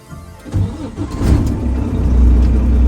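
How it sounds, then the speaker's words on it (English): A truck engine cranks and catches during a CDL Class A in-cab pre-trip inspection, starting with a brief whir before settling into a steady, loud low rumble that builds and holds close by. "I'm going to perform a safe start to the engine."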